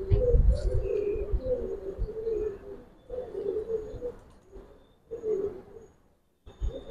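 Giribaz pigeons cooing in a cage, repeated rolling coos in bursts with short pauses between, close and clear, with faint chirps above.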